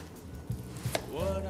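A knife trims the root ends off blanched white pearl onions on a cutting board, with two soft thuds followed by a brief sharper cut, close and fairly loud against a quiet kitchen background.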